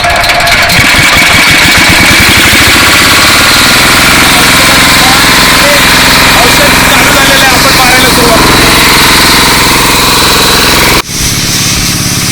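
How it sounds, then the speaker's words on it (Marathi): The engine of a pesticide sprayer in a custard apple orchard sputters to life and then runs at a loud, steady, rattling idle, with a voice barely heard beneath it before the sound cuts sharply near the end. "आता आपण इंजिन चालू करूया"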